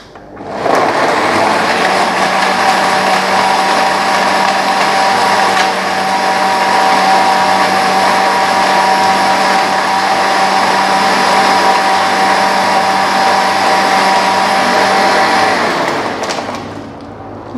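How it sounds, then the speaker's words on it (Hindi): A blender whirs continuously and loudly for about fifteen seconds, mixing an Oreo shake with a glass of milk, then abruptly stops. "इसको हम फिर से कर देंगे, इसको हम ब्लेंड।"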